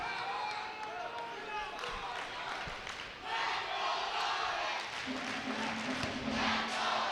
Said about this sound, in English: Let's go Lawrence is the chant from the crowd here